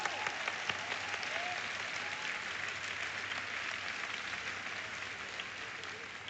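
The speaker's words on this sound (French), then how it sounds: "Come on, give yourself a big hand. Applaudissez-vous." An audience at a church sermon breaks into sustained, steady applause, a broad even patter of many hands clapping at moderate distance with faint voices underneath.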